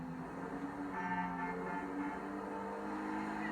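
Engine of a Benefactor Schafter car in a video game, accelerating as a steady, fairly quiet drone whose tone rises a little partway through, with no voices over it.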